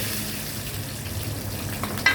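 Oil sizzles and crackles steadily in a pan as two pomfret fish fry, fairly quiet and close, with a small pop near the end.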